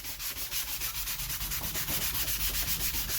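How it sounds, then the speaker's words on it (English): A wooden part for a tensegrity table is sanded by hand, with quick, regular back-and-forth rubbing strokes in a steady rhythm, close and fairly loud with no voices. "got it sanded."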